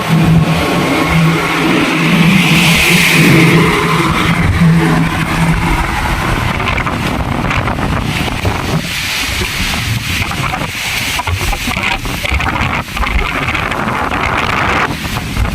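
Street traffic on a busy road, a loud, continuous rush of passing vehicles and engine rumble heavily buffeted by wind noise on the microphone, with no talking.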